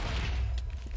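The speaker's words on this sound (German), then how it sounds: "Creep explodiert." A short burst of booming, crackling Minecraft creeper explosion noise, loud and low-heavy, fading over about a second.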